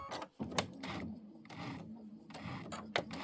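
A sewing machine with a walking foot back stitching on a Christmas quilt, its quiet mechanical whirring coming in short close bursts separated by brief pauses.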